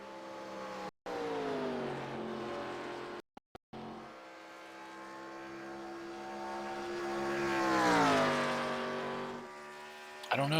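A 1987 NASCAR Legends stock car races around Texas Motor Speedway in the iRacing simulator, its engine droning steadily with brief cuts, then pitch swelling and climbing as it accelerates before easing off, loud and continuous.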